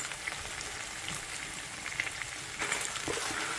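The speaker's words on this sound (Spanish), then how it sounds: "Colocamos los chiles para que se fríen junto con la carne" Chiles frying together with meat in a pan give off a steady, close sizzling hiss that crackles on without pause, with no voices.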